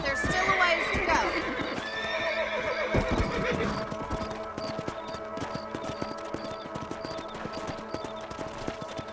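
Horses in the video game Red Dead Redemption whinny loudly near the start, followed by steady clip-clopping hooves trotting along, with a voice briefly heard early on.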